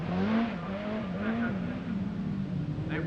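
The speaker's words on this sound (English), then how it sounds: "as you can hear the revs roaring up" A 1985 Lombard RAC Rally car's engine howls and revs hard while the driver keeps the power on across a slippery surface, a loud wavering note rising and falling close by.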